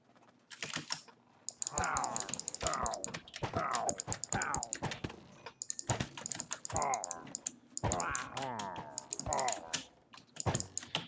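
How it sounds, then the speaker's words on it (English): Rapid computer keyboard typing during a Minecraft game, a dense, busy clatter of keystrokes running through most of the stretch, with people talking over it. "I hear your keyboard."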